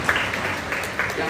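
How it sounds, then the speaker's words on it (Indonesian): Applause from a church congregation during a sermon, a steady wash of clapping over the whole moment with a few louder bursts. "Yang setuju boleh pegang tepuk tangannya Pak."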